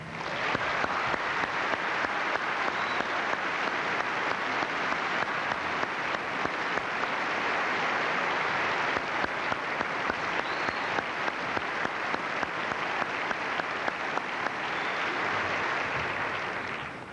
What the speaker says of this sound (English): please, a nice round of applause for our Postmaster General, Marvin Runyon.